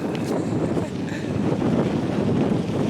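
Steady, heavy wind buffeting the microphone while cycling, a constant low roaring rumble that fills the whole clip.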